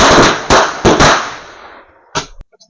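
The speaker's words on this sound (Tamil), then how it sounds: "இது சரம் தான், வச்சிடலாம்." A string of Diwali firecrackers bursts in sharp, loud, close cracks: a quick run of bangs, then a fading rumble and two or three final pops, with no talk.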